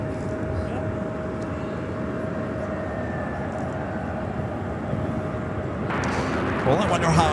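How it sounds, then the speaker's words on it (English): An American Airlines Airbus A320 arrives at LAX with a steady, moderately distant jet rumble that grows louder near the end, while people talk over it. "This next arrival is American Airlines 3103, coming in from Tampa, Florida on the A320."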